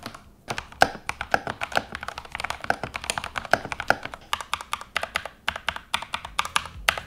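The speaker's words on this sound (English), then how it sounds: "Here's a quick sound test with the TTC Speed Silver switches." A ZX75 mechanical keyboard fitted with TTC Speed Silver switches is typed on at a quick, uneven pace, producing close, crisp clacky keystrokes in bursts with short pauses between, heard alone.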